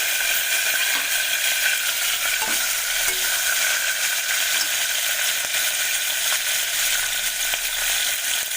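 Curry leaves and dried red chilies sizzle hard in hot oil for a simple sambar tempering. The frying hiss is loud, dense and steady throughout, with faint stirring clicks and no voices.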